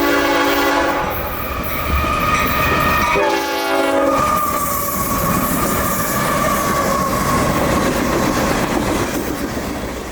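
A CSX intermodal freight train carrying Tropicana cars passes at Vitus Junction, sounding its horn in long loud blasts over the rumble and clatter of rolling wagons.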